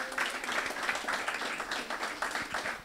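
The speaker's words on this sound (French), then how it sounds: "On l'applaudit." A church congregation at a worship service applauds a welcomed guest, with dense, lively clapping from many people sustained throughout at moderate loudness.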